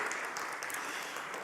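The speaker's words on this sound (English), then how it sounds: "I want to give everyone here a big round of applause for coming here early" An audience at an education summit in Indonesia claps steadily, a dense patter of applause from a room full of people, moderately loud and unbroken throughout.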